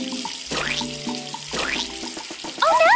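Tap water runs steadily into a warm bath, close and fairly loud, with short bursts of bright tonal sounds over the flow and a louder splash near the end.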